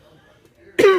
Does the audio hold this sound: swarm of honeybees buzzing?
no